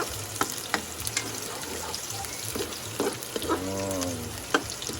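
Tomatoes, garlic and onion fry and get stirred in a pan, a steady crackling sizzle broken by short scraping knocks of the spoon against the metal, close and fairly quiet.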